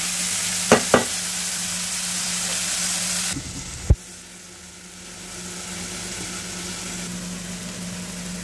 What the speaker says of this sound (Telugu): ఉల్లిపాయలు కొంచెం ఎర్రగా అయ్యేదాకా వేగనివ్వండి